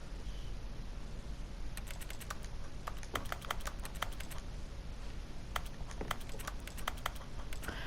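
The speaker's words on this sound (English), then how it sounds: "It sounds like if somebody was clicking at a keyboard." Keyboard clicking in The Stanley Parable: Ultra Deluxe, a steady patter of quick key clicks in short irregular bursts over a low background hum, with no voices.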